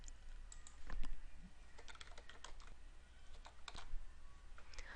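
Fingers typing email addresses on a computer keyboard, a steady run of quick, light key clicks with a few sharper taps, close and fairly quiet with no talking.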